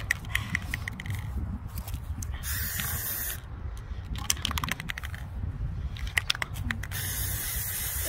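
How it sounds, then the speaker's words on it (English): Spray paint hisses from an aerosol can outdoors into the wind while glass is painted, in several sustained bursts with short breaks, close and fairly loud over a rumbling, gusty background. "spraying into the wind"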